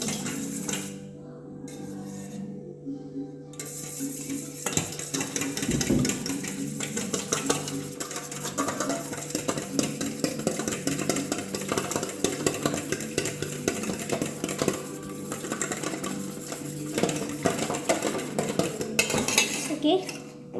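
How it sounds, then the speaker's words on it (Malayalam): French toast batter is mixed in a bowl, with steady, busy clinking and scraping of a utensil against the dish for a long stretch, close and fairly loud, with short pauses and a brief quieter gap near the start. "ഇനി ഇത് നമുക്ക് മിക്സ് ചെയ്തെടുക്കാം."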